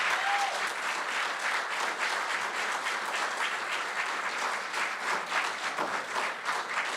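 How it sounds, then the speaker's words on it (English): An audience at a high school board of education meeting gives a long round of applause, steady dense clapping held at an even, moderate level throughout with no talk over it. "Can we please have one huge round of applause for Mr. Krasowski?"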